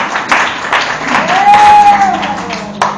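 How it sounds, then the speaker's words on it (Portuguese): Congregation applauding for Jesus at an evening church service, a loud burst of clapping from a crowd, mixed with voices and a rising sung or shouted tone partway through. "dar uma salva de palmas bem forte para Jesus"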